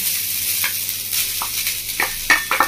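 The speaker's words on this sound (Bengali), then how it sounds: "নারকেল কুড়াটা আমি ঘিয়ের মধ্যে দিয়ে দিচ্ছি" Grated coconut dropped into hot ghee in a pan, frying with a steady bright sizzle and several sharper crackling bursts and stirring scrapes, close and loud, no voices.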